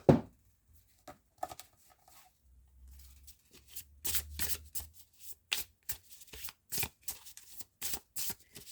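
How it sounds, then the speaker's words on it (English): A deck of astrology oracle cards is shuffled and drawn by hand, giving soft, close riffling and flicking bursts in an uneven rhythm with quiet gaps. "I'm going to get your Heavenly Body Astrology card."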